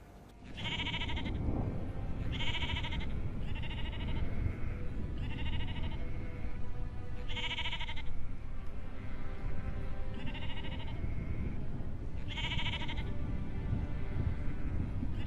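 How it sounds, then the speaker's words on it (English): Sheep bleat loudly and close, in repeated calls spaced every second or two over a steady outdoor background. "These are my sheep."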